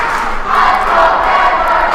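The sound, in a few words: crowd cheering at a volleyball game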